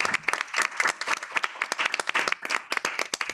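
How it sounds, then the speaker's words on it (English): Applause for Carlene Pinto, co-chair of Latinas Grow, at a cannabis education event, a small audience clapping in distinct, uneven bursts, close and moderately loud with individual hand claps audible. "Please give her a big round of applause."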